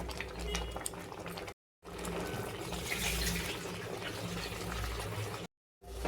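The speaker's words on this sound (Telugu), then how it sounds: "ఇప్పుడు రవ్వ ఉడికియాలి." Semolina bubbles and boils in a pot, a close, steady burbling that drops out twice briefly before resuming.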